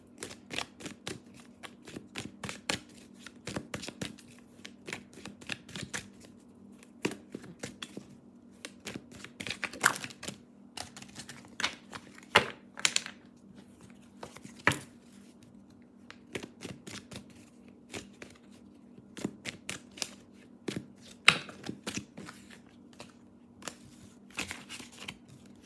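Oracle cards are shuffled and drawn by hand in a quiet room, with repeated crisp flicks and riffles in irregular bursts, close and fairly soft.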